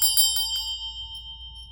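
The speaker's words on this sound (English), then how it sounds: "So that's my loudest of the bells, but this is the heavy duty cleaner." A loud metal bell used to cleanse a tarot deck is struck about four times in quick succession, then its bright, pure tone rings on and slowly fades, alone in a quiet room.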